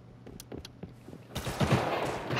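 Gunfire in a shooter video game: a few faint shots early, then a louder, denser burst of rapid shots in the second half, with no talking over it.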